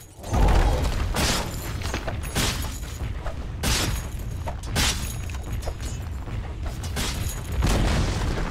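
The Dire top tower collapsing in Dota 2, a string of heavy booms and crashing impacts spread over several seconds, loud and dense, with no voices over it.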